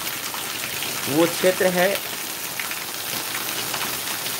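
Heavy rain pours steadily over flooded farmland in Madhubani, a dense continuous hiss throughout, with someone briefly speaking over it.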